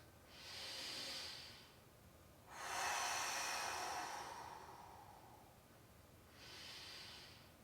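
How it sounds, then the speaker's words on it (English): Deep breathing during a seated yoga twist: a loud, airy inhale, then a longer, broad exhale, then another inhale, each a breathy hiss with no talking. "Big inhale, big exhale."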